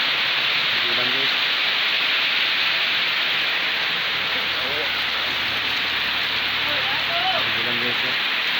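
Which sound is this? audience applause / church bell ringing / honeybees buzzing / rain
rain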